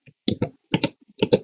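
Command being typed on a computer keyboard in Windows, heard as several quick bursts of close, crisp key clicks with short pauses between them, with no talking.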